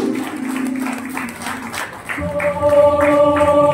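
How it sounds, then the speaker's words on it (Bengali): Audience applause at a lamp lighting ceremony during a cultural event, a burst of clapping from a crowd mixed with sustained musical tones that rise toward the end. "প্রদীপ প্রজ্বলন অনুষ্ঠান অনুষ্ঠিত হচ্ছে, আপনারা করতালি দিয়ে মুহূর্তটা স্মরণীয় করে রাখুন।"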